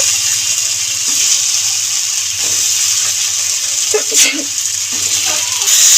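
Fried potatoes go into a hot kadai of spice paste made with stone-ground spices, ginger and turmeric, for a Bengali snakehead fish curry. A steady, loud sizzle runs throughout, with a few clinks of stirring near the end.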